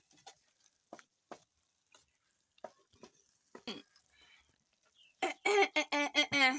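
Sweet potato and omena are stirred together in a cooking pot over an outdoor village fire. Faint scattered clinks give way to louder, rhythmic scraping strokes near the end.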